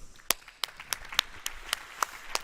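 Applause for two speakers at a mobility conference comes as sparse, evenly spaced sharp claps, about eight in a row, fairly close and crisp over a quiet room.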